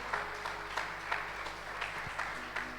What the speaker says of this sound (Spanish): Dale un gran aplauso al Señor Jesús.